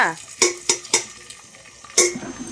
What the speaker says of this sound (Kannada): ಬೆಳ್ಳುಳ್ಳಿ ಚೆನ್ನಾಗಿ ಫ್ರೈ ಆಗಬೇಕು